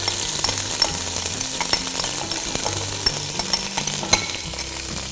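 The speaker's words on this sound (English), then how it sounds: "When your oil is sufficiently hot, add the spice paste in." Rempah spice paste frying in hot oil for a curry chicken made with Kara coconut cream, a loud, dense sizzle with scraping stirs and occasional metallic clinks, steady throughout and close up with no talking.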